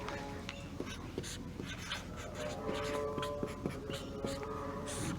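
A pen scratches out quick, light strokes while notes are written during a lecture on restriction enzymes, soft and close, under a teacher's ongoing talk.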